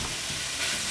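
Partially cooked bacon and raw hamburger meat fry together in a pan for a stew, producing a continuous close, dense sizzle with soft stirring underneath and no voices.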